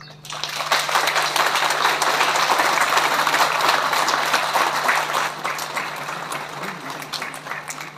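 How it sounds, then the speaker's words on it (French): Crowd applause at a Bastille Day ceremony in Le Tréport, France, honouring a former fire brigade chief. Dense clapping swells after a quiet start, holds loud for several seconds, then gradually thins out, with a steady low hum underneath. "Vous pouvez même les applaudir."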